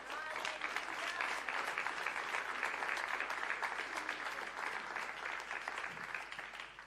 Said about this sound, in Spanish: Denle un aplauso al Espíritu de Dios.